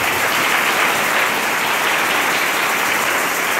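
A church congregation claps and cheers for the Lord in a steady, dense wash of applause that stays loud and even throughout, with no pauses and no voices standing out.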